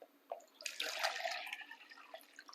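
Water pours into a cooking pot for rice, a short splashing run close by and fairly faint, with a few drips before and after.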